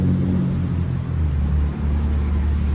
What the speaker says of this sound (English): I had to wait for that truck to go by.